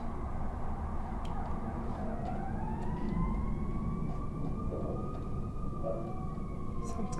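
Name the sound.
emergency vehicle sirens in the street in Chicago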